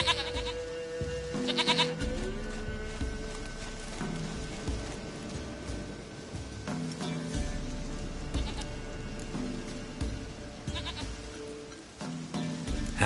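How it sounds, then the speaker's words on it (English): Goat bleats in a video game on PS4, several calls rising over busy game music and ambient effects, fairly loud and close throughout. "Goat of mine, dearest, sweetest goat."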